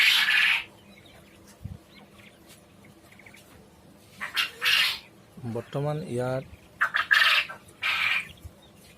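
Farmed bota birds kept in a shed of about two hundred call in short squawking and clucking bursts, fairly close, between stretches of quiet, while someone talks among them.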